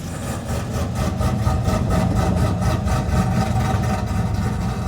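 A cammed, modified 6.2-liter V8 in a Chevy Avalanche truck idles loudly and steadily with a deep rumble and a throaty, pulsing exhaust burble, no talking.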